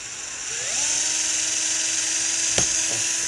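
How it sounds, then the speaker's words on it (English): A slightly larger drill bit whines steadily as it bores into metal during maintenance of a Webley revolver cylinder, a sustained high-pitched drone rising as the tool spins up, with a brief clack near the end. "So I'm going to select a slightly larger drill bit."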